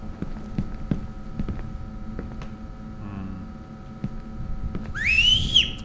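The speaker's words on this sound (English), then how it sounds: "Stop whistling." In the game The Backrooms 1998, a brief rising whistle sounds near the end over a low steady hum, with scattered soft thumps and a shorter warbling tone midway.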